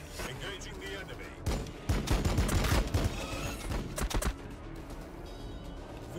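Gunfire from units in the strategy video game Warhammer 40,000: Battlesector, a burst of overlapping shots and blasts forming a dense fusillade that peaks in the middle, with a voice speaking through parts of it.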